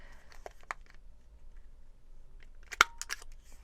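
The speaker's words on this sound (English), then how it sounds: "we're gonna cut this out, just smaller than what I have drawn on the paper" Scissors snip out a paper shape for a Peekaboo Brick Wall page project in a few quiet, scattered cuts. A sharper crisp snip lands near the end, with soft crinkling in between.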